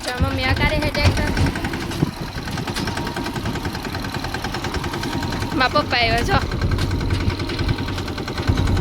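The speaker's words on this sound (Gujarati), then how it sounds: "મમ્મી અકારે છે ટ્રેક્ટર" A loaded farm tractor's engine chugs steadily nearby with a mid-pitched, knocking idle. A person speaks over it and a short tonal sound rises in the middle.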